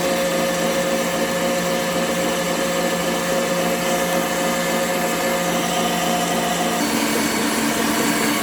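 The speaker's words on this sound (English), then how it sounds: "I'm going to beat it for 1 minute at high speed." An electric mixer beats banana mango loaf batter at high speed with a loud, steady whirring drone and no pauses. Near the end the pitch and tone shift slightly.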